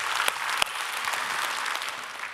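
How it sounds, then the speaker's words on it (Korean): Church congregation clapping together at a Sunday worship service, a steady wash of applause of moderate volume that runs through the whole moment with a couple of sharper individual claps near the start. "오늘도 은혜 주시는 우리 하나님께 박수로 감사합니다"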